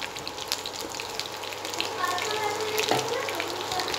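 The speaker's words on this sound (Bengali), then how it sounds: "হিট বাড়িয়ে আমি চিকেন পিসগুলোকে 1 মিনিট ফ্রাই করে তুলে নেব।" Chicken pieces fry in hot oil over high heat, a continuous bubbling sizzle with crackly spitting that swells slightly midway, close and fairly loud.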